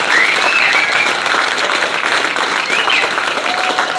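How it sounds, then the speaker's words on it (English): At a fight promotion's live weigh-ins, an audience applauds in a continuous, dense roar of clapping mixed with crowd cheers and a few whistles, loud and sustained throughout. "Round of applause for that."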